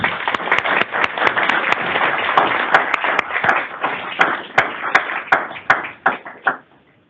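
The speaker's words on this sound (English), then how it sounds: "Let's give them a round of applause." Audience applause breaks out at a state transportation board meeting: a sustained round of many hands clapping in a meeting room, with sharp individual claps standing out as it thins and fades away at the end.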